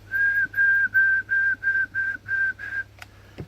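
A steady whistled tone into a Cobra 148 GTL DX radio on lower sideband, repeated in eight even bursts, each about a third of a second, over a low electrical hum, then a couple of faint clicks.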